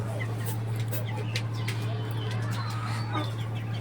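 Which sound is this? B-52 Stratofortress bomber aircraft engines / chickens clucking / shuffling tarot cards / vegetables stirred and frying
chickens clucking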